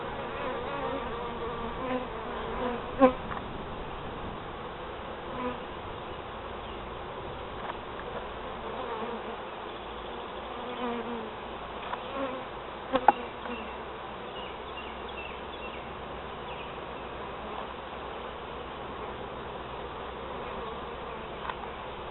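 Dense, continuous buzzing of many honeybees close by on hive frames, a steady droning hum with occasional faint clicks and knocks.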